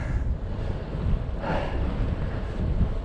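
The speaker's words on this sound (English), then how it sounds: "And the wind's blowing against me, of course." Headwind buffets the microphone of a Cube hybrid e-bike riding from Reraig toward Plockton, a steady low roar with gusty swells and no voices.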